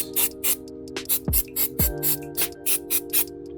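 Short hissing bursts of brake cleaner sprayed on a jammed brake caliper of a Jeep Cherokee XJ repeat in a quick, uneven rhythm, close by, over a steady mechanical hum with a couple of low thuds.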